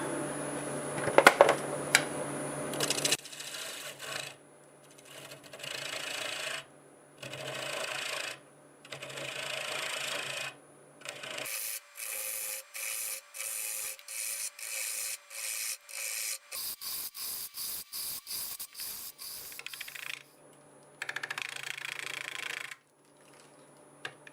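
A wood lathe spinning a maple bowl at about 840 RPM, with a gouge taking repeated cutting passes: rasping, scraping bursts of a few seconds each, separated by short quiet gaps, some passes quicker and choppier, no speech.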